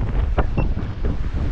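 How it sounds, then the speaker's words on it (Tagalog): Strong wind buffets the microphone with a steady roar over the sea, and waves slosh and surge beneath it. The weather is too rough for a small fishing boat. "tingnan nyo naman yung panahon, napakalakas ng mga alon"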